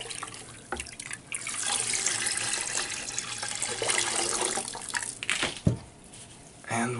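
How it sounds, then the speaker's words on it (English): Water runs and drips off freshly dipped plant pots back into a larger pot, a fairly close trickle with uneven splashes and a few sharper drops toward the end. "And we'll just let them drip in the pot."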